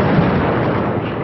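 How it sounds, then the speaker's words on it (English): A GBU-43/B MOAB, the Massive Ordnance Air Blast bomb, detonates in a loud sustained roar, a dense low rumbling blast that continues steadily through the whole moment without pause. "You're about to witness the mother of all bombs."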